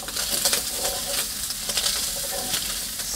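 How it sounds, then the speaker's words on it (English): Bacon frying in a frying pan with a loud, dense, continuous sizzle and crackle, close up, with intermittent brighter pops and spatters throughout. "cook the bacon for about 5 minutes until it's nice and crispy"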